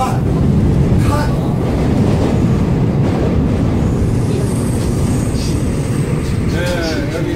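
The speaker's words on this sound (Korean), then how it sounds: "네 여기 지하철인데요" Line 7 subway train running, a steady loud rumble and rattle of the carriage filling the whole stretch, with faint voices beneath it.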